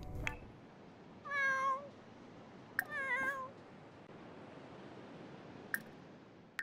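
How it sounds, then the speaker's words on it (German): A cat in the life-simulation game The Sims 4, a sick pet, gives two clear, close meows a second apart, with a few soft clicks around them against a quiet background. "Ich hab doch eine kranke Katze."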